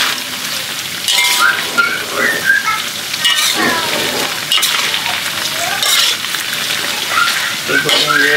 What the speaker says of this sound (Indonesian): Kita goreng dia sedikit ke garing-garingan itu.